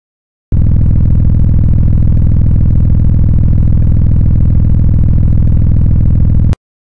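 A generated, looping vehicle engine sound for a game: a steady, loud, buzzy mid-pitched drone starting abruptly, holding constant for about six seconds, then cutting off sharply.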